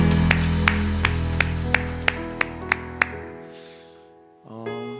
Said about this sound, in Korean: 우리 주님께 영광과 감사의 박수 올려드립시다.